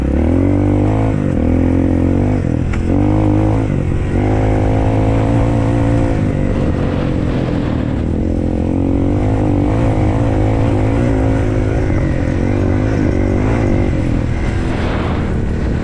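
A Shineray VXR 300 motorcycle on a test ride, its engine droning loud and steady throughout with shifting revs and wind rush, close to the rider with no talk.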